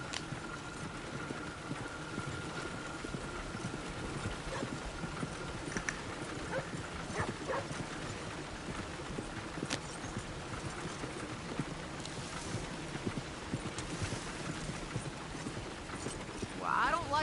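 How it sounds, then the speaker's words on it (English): Steady clip-clop of horse hooves trotting throughout in the video game Red Dead Redemption 2, with people talking over the rhythmic hoofbeats. "Look where you want to go and the horse will follow."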